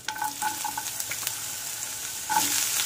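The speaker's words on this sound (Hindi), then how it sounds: "इसको अच्छे से भून लेंगे थोड़ा कलर होने तक" Chopped onion frying in ghee gives a continuous close sizzle with light clicking stirs early on and a louder burst of crackle toward the end.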